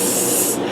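A human voice mimicking a spray paint can, one short loud hissing spray burst that cuts off abruptly, close up.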